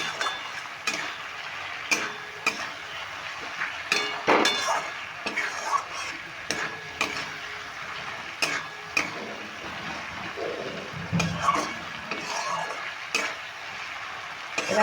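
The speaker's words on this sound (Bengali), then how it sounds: "এবার আমি ভেজে রাখা আলুগুলো দিয়ে দিচ্ছি আলুটা দিয়েও আবার কষিয়ে নেবো" Fried potatoes stirred into masala in a pan: a continuous sizzle broken by frequent hard spatula clatters and scrapes against the pan, close and fairly loud, with no talking.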